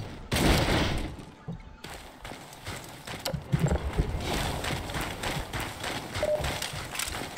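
Rapid bursts of gunfire from Half-Life 2 game combat, with quick repeated shots in fast rattling runs over busy background game noise, fairly loud and continuous.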